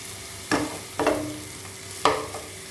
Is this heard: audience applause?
no